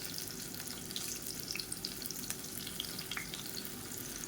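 Raw plantain slices fry in hot oil on a dosa tawa, a faint steady sizzle with small crackles and pops scattered throughout, no voices.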